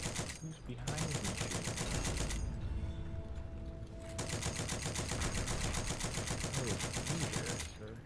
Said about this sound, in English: Someone was shooting at me from across the water.